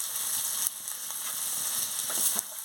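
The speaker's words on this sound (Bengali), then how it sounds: "হলুদের গুঁড়ো দিয়ে দিচ্ছি, দিয়ে ভালো করে নাড়িয়ে নিচ্ছি।" Fish curry spices with turmeric and salt sizzle steadily in a hot pan while being stirred, a continuous close frying hiss with a couple of brief scraping bumps from the spoon.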